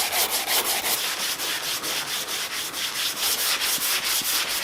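Rhythmic back-and-forth rasp of block sanding on a primed car bumper, steady strokes close up and alone, no voices.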